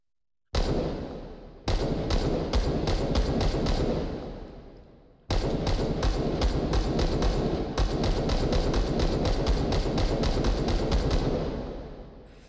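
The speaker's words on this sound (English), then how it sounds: "So it's the American style bump fire" American-style bump fire gunfire in a video game: bursts of rapid, loud shots, a short volley, then a longer sustained string of cracks with brief pauses before trailing off.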